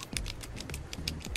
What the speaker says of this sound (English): That's my pen clicking.